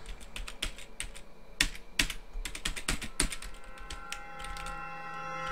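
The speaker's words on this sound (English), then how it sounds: "I had to pound the uh, interact key to pick those keys up for some reason" Computer keyboard keys typed and struck hard at close range, sharp irregular clicks with several loud emphatic hits, during a PC game with a faint steady tone behind.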